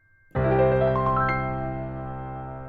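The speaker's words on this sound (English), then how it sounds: "we're going to be using arpeggios for this one," A piano strikes a low note, then quick arpeggio notes ripple upward and ring together, slowly fading.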